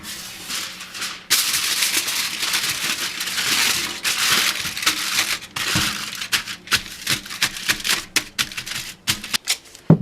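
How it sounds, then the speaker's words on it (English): Tin foil is crinkled and handled for back masking while clearcoating carbon fiber: a steady, loud, close crackling rustle of crumpling foil, then a run of sharp, separate crinkles and taps, with no talking. "Back masking with tin foil is just a good tip, period."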